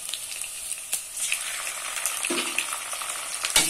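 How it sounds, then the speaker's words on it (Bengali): Chopped onion frying in hot oil in a pan for a fish curry with beans, potato and tomato, a steady close sizzle broken by a few sharp stirring scrapes and clicks. "পেঁয়াজ কুচি, পেঁয়াজটা একটু ভেজে নেব।"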